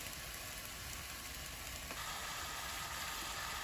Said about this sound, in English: I have the meat browning here